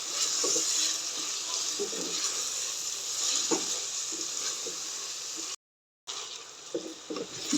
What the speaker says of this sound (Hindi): Chilli flakes 1/2 teaspoon, chilli powder 1/2 teaspoon. इनकी अच्छे से बुनाई करेंगे।